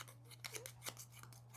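Playing cards riffled and shuffled during a tabletop-style card game, a run of quick papery rasps and flicks in uneven bursts, close and fairly quiet over a steady low hum.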